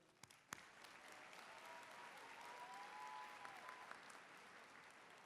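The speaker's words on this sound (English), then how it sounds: "Give them a round of applause." A crowd at a graduation ceremony claps in sustained applause, steady and fairly even, with a few sharper claps near the start.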